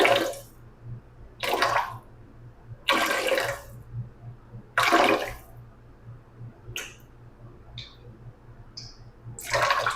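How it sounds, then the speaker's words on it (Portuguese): Water is poured in short bursts while preparing bread dough, several separate splashing pours with quiet gaps between them and a low steady hum underneath. "eu gosto de estar sempre adicionando água primeiro"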